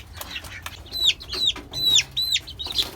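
Chickens cluck in a quick, close series of sharp calls, with a soft rustle between them, among native and tiger chicken chicks kept on a rooftop.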